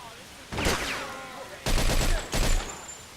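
Gunfire from a Mafia 2 shootout: three separate loud bursts of shots, each with a sharp onset and a short ringing tail, spaced across a few seconds.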